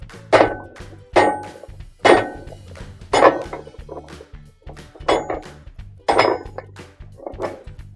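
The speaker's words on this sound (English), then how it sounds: "Using a hammer, we're going to make the nut hub become loose by hitting it in the direction where it says loosen" Repeated sharp metallic clanks of a hammer hitting a spanner wrench to loosen a GE washer's hub nut, about eight blows at a steady pace with a ringing edge, close up and loud.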